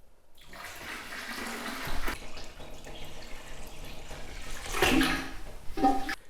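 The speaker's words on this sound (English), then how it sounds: "I'm just spraying the inside of this with sanitizer whilst I fill it up with water coming out of the tap" Tap water runs into a plastic homebrew fermenting bucket while the inside is sprayed with sanitizer, giving a steady splashing, gurgling flow with a few louder surges and spray bursts toward the end, close by.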